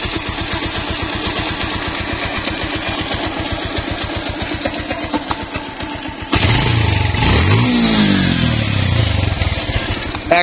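A used Bajaj Pulsar 150cc motorcycle engine runs close by with a steady, fast-pulsing idle, then a louder, rougher surge of revving partway through as the engine note climbs and falls.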